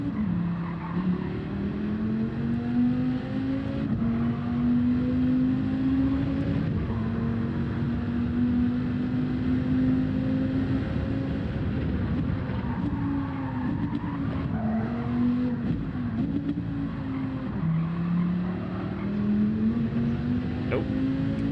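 A sprint car engine in Gran Turismo 7 drones steadily throughout, its pitch wavering up and down as the car accelerates and lifts off, with faint tire noise and a voice speaking briefly over it.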